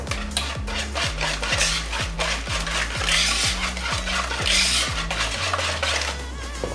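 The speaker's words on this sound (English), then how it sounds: "And let's mix it more." Banana bread batter being mixed in a bowl, a utensil scraping and clacking against the sides in a steady, quick rhythm of repeated strokes, close and fairly loud with no talking.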